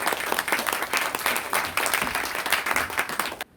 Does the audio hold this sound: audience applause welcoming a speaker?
yes